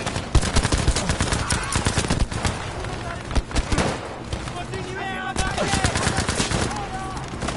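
Submachine gun fire in Battlefield V, an MP weapon rattling off rapid bursts of close, loud shots with brief pauses, a voice speaking faintly under the shooting partway through.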